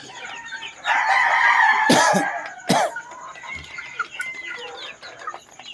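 Chickens cluck and a rooster crows loudly nearby, with a cough-like squawk midway and softer clucking continuing after; a farm flock of Boston chickens and four-month-old pullets.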